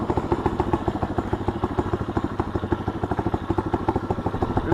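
A Tao Tao DBX1 140cc pit bike engine runs with a steady, rapid, chugging pulse, fairly close and unbroken throughout, with no voices over it.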